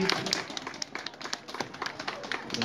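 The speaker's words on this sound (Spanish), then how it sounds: "que se escuchen fuerte los aplausos" A crowd at a Chinelos celebration in Los Angeles, honoring the Virgin of Guadalupe, claps steadily in dense, overlapping bursts, with voices mixed in the background.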